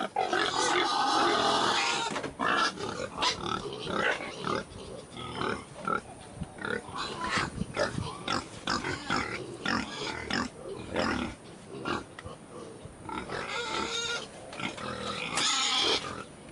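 New piglets on a small farm squealing and grunting loudly and almost continuously, close by, with shrill bursts rising over a busy, rough din of snorts and shuffling.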